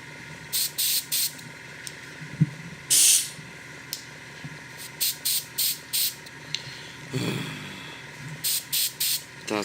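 Airbrush spraying paint while painting a Dreadnought miniature for a base, heard as repeated short bursts of airy hiss with brief pauses between them over a quiet background.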